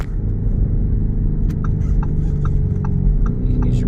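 Lamborghini Urus exhaust in Corsa mode giving a few small sharp crackles and pops on a downshift over a continuous close engine rumble.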